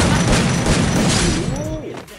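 Rapid gunfire in the Free Fire video game, a dense loud barrage of booming shots blending into a continuous rumble, with a rising whistle-like tone near the end.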